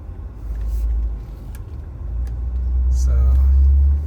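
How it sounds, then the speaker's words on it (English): A mail truck drives past, a low rumbling engine that swells and grows louder toward the end, with a voice talking nearby. "See the mail truck there?"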